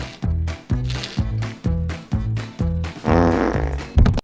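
A comic fart sound effect, loud and close, made of a rapid run of repeated buzzy, sputtering bursts that ends in a longer, rougher blast.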